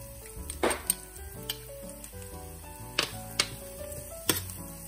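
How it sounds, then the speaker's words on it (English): Minced garlic and diced shallots frying over medium heat in a pan, a soft continuous sizzle with occasional sharp clinks of a utensil against the pan. "Continue to cook until the garlic turned light brown, then remove from the pan."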